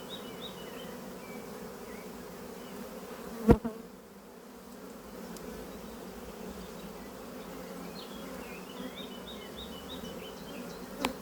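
A honeybee colony hums steadily at an open hive, a dense close drone of many wings with a few individual bees buzzing past and one sharp knock partway through.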